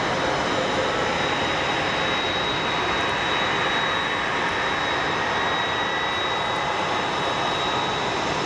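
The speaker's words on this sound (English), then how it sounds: "That MD-11 that's in front of us." Jet engines of a nearby McDonnell Douglas MD-11 at Boeing Field produce a constant, loud, broadband roar with a steady high whine running throughout, unchanging and without speech.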